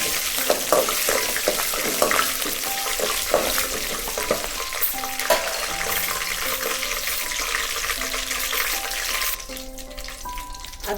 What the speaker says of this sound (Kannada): ಸ್ಟವ್ ಆಫ್ ಮಾಡಿದ ಮತ್ತೆ ಕರಿಬೇವಿನ ಸೊಪ್ಪು ಹಾಕಬೇಕು. ಮತ್ತು ಒಣಗಿದ ಮೆಣಸು ಹಾಕಬೇಕು.